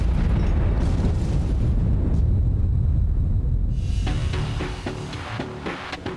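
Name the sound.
explosion filmed in Siberia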